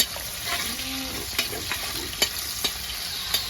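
Onions frying in a pan, heard as a continuous close sizzle with a spoon stirring and tapping now and then, and no talk.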